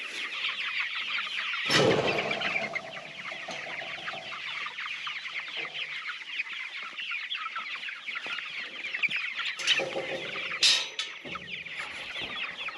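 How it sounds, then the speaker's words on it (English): Chickens clucking and calling steadily in the background outdoors, with a few louder squawks standing out near and midway through. "We have several chickens out."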